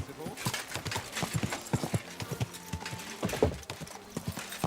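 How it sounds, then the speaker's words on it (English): Horse hooves clip-clop in quick, uneven steps on a hard surface in Kingdom Come: Deliverance II, close and fairly loud. A short whinny cuts in partway through, with game ambience and some voices underneath. "My God, that is a bloody expensive horse."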